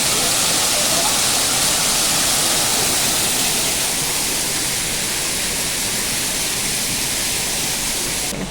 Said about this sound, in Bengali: কোনো ঝর্ণার থেকেই জলটা আসছে